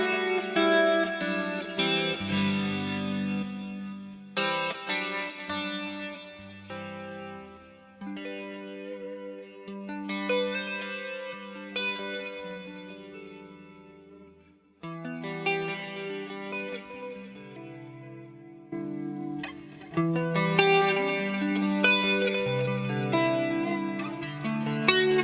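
Electric guitar through a heavily boosted compressor, sustained legato lead phrases and chords in several bursts, up close with a touch of echo and reverb, no talking.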